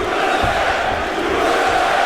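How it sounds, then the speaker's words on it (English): Large arena crowd in Philadelphia chanting during a Matt Hamill versus Alexander Gustafsson fight, a loud, steady roar of massed voices with rhythmic swells, filling the space continuously. "Pennsylvania crowd chanting USA for Matt Hamil."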